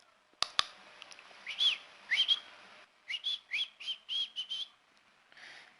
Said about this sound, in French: Je viens de siffler